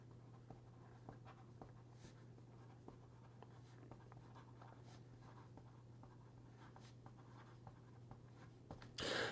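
A Visconti Homo Sapiens Crystal Dream fountain pen with an 18 karat gold nib writing on paper, soft intermittent scratchy strokes, faint and close, ending in a brief louder rustle.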